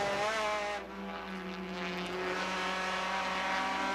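Mazda race car engine at Circuit of the Americas revving hard above 8,000 rpm, a loud, sustained high-pitched howl with steady harmonics and a brief dip before climbing again, no voices.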